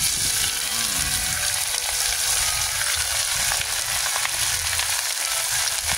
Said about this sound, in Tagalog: ginisa lang natin dyan guys ang bawang, sibuyas at ang luya para may aroma